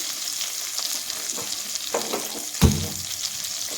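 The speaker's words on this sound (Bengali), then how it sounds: "একটু পেঁয়াজটা ভাজা হলে আমি সবজিগুলো দিয়ে দেবো" Chopped onion sizzles steadily in hot oil in a pan for a Bengali small-fish curry with potato, eggplant, ridge gourd and tomato, with occasional stirring scrapes and a sharp clatter near the end.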